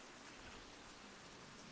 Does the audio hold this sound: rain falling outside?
yes